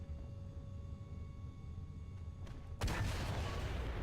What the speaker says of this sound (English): I'm going to preemptively fire and get his track and his transmission